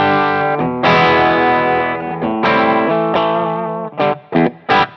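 Electric guitar through a TWA SH9 distortion pedal into a slightly crunchy amp, playing loud saturated sustained notes and chords, ending with three short stabbed hits, alone with no talk.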